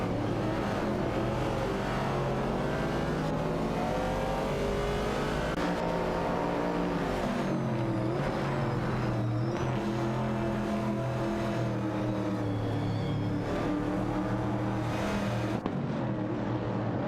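A 1970 Pontiac Firebird and a 1968 car racing closely on a track, steady engine drone and revving that swells and fades as they pass, loud and continuous without talk.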